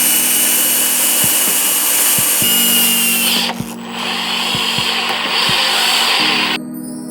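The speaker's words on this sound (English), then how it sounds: "Now I'm going to drill and tap a hole in here so that it cannot spin." A handheld power drill works a hole into a cut metal pipe, its motor whining loudly and steadily up close, briefly dropping out mid-way before spinning up again, with small knocks and clicks from the tool and workpiece.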